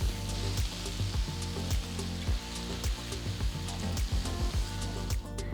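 Tomatoes seasoned with salt and turmeric simmer and sizzle in a pan, a steady bubbling hiss with small pops, heard up close with music playing over it.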